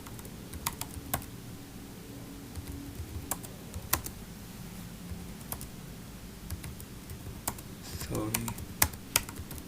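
Someone types a command on a computer keyboard at close range, with sparse, irregular key clicks that pick up into a quicker burst near the end, while a voice speaks briefly and a low room hum sits underneath.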